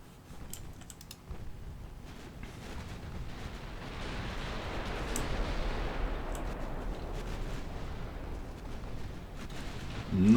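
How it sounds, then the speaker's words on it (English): Heavy cruisers' 9-inch guns fire in a naval strategy game, a dense rumbling barrage that swells into sustained, loud booming, with sharp transient cracks scattered through it and a louder hit at the end. "Look at those 9-inch guns on the new heavy cruisers."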